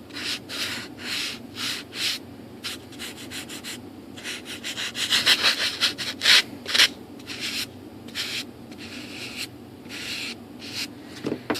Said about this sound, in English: we can go ahead and just sand it to smooth and even